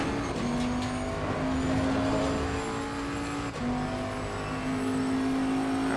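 A 2020 Bentley GT3 engine in Assetto Corsa Competizione holds a steady, loud drone that dips as it downshifts through the gears, heard alone with no talk.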